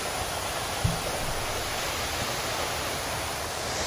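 Steinsdalfossen waterfall in Norheimsund, Norway, about 20 metres high with fast-flowing clear water, roars as a dense, steady wash of rushing water with one brief low thump near the start.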